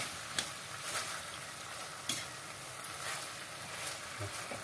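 A pork chop fries in oil with onion leaf, a faint steady sizzle and crackle with a few sharp pops and stirring clicks.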